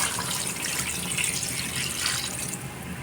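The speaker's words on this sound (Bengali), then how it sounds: "এখন জল দিয়ে দেবো।" Water pours steadily into a pot of chicken curry, a continuous close splashing rush that runs unbroken for about three seconds with no one talking.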